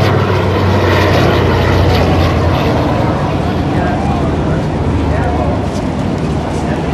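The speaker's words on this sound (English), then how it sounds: "This is the air show, and they're having a bombing mission going on now" Aircraft engines drone steadily overhead during a bombing-mission display at an air show, a loud continuous roar filling the whole stretch with broadband crowd and wind noise and no clear lulls.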